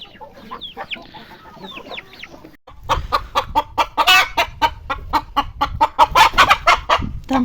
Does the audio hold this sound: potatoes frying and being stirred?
no